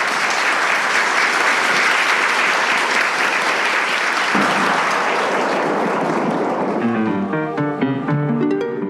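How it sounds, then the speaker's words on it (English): A live audience at a panel event recorded for an Agatha Christie screen adaptation episode bursts into loud, sustained applause that fills the room, then thins out near the end as music rises in. "please give yourself a big round of applause for showing up"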